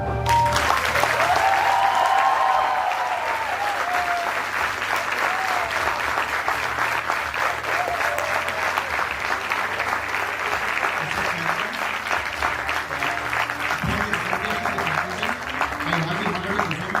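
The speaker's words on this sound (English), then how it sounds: "Now the audience may applaud." Sustained audience applause at a business school convocation ceremony, a dense, even roar of many hands clapping that holds steady for the whole stretch, with brief voices early on.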